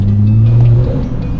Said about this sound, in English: this is a loud intake, guys